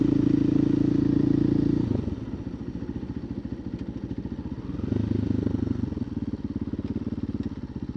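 A 2024 KTM EXC-F 500 TPI with an FMF muffler runs on a road, its single-cylinder engine loud and close: a revving buzz, then a lower lumpy putter off the throttle, then revving up again.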